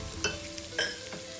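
A spatula scrapes and tosses chicken fried rice with green onion in a hot pan, two sharp clanks against the metal over a low sizzle, quick and close.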